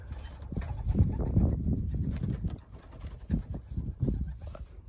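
Young racing pigeons on a loft roof coo and shuffle, with wing flaps and scuffing feet in irregular bursts nearby, outdoors and without talk.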